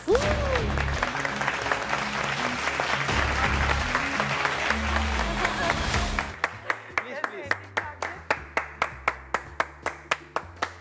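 Loud, dense applause from a large talk-show studio audience fills the room, then thins into a few slower, distinct claps that continue steadily to the end.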